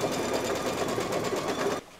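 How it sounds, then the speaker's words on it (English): A single-needle embroidery machine stitches a tack down line on fabric over stabilizer, a rapid, even mechanical chatter that runs close and steady before stopping abruptly near the end. "here is the tack down line for the fabric"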